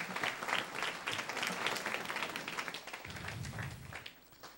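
A church congregation applauds steadily, a dense wash of many hands clapping at moderate distance that carries on for several seconds before thinning out.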